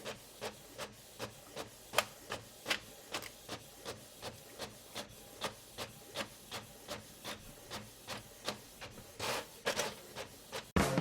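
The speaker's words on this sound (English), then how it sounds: "Now they're on the printer printing." A printer runs through stamp album pages for a Belgian regular issue collection, giving a steady series of evenly spaced mechanical clicks and thumps over a continuous hiss, close by and with no talking.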